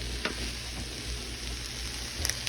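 Sliced small onion sizzling in butter in a pan for an omelet, a steady close frying hiss throughout with no talk.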